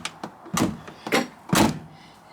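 Door of an older MGB sports car under restoration being opened and shut several times, giving a series of close metallic clunks and latch thuds, the last one firmest.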